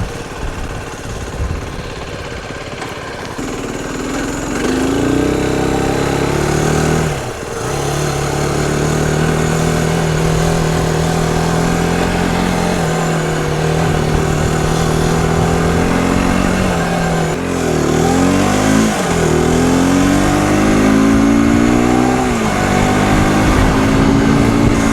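A Malaguti Dune 125 X Black Edition scooter rides along small back roads, its engine humming steadily and loudly up close, rising and falling in pitch as the throttle opens and eases, with no talk over it.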